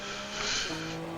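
Tires squeal through a drift in a VR racing sim, lapping a track in an attempt at Stefan Bellof's 6:11.1 lap record, over a steady engine drone across roughly a second.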